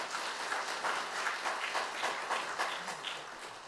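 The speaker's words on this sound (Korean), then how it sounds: "네 분 모두에게 큰 박수 부탁드립니다." Applause from the audience at the founding ceremony of a memorial society honouring the independence activist Gye Yeon-su, a steady mass of clapping that sounds fairly distant and soft throughout.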